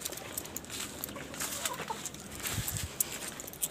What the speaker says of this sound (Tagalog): Pakainin ko ang manok natin.